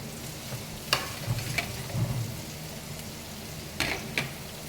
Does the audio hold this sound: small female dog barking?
no